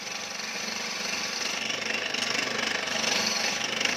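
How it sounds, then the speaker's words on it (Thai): A drill bores into the case of a 125cc motorcycle engine being converted from kick start to electric start, a harsh continuous grinding and chattering whine that grows gradually louder, close and uninterrupted. "นี่ครับเจาะออกไปก่อนนะครับ"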